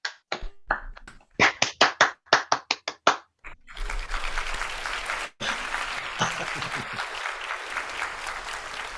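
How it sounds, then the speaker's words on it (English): Sparse scattered handclaps from a small gathering at a presenters' club night swell into a full, steady round of applause for Derek, dipping briefly midway and then continuing at an even level. "And we all owe Derek a huge round of applause."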